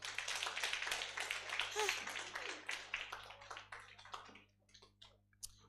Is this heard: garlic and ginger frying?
no